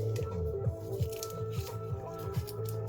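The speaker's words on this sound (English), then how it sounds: "here is the goo going onto the noodle" Samyang Buldak sweet and spicy sauce squeezes out onto instant noodles in a series of soft, wet squelches and sputters, repeating every half second or so at close range.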